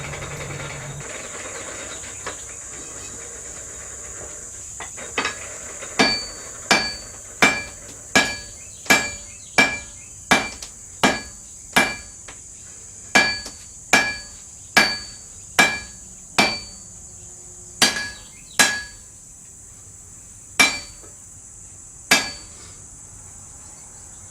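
Sharp metallic hammer blows on a hot steel sword blade ring out one after another at a steady pace, each strike bright and clanging, with a faint high whine in the background.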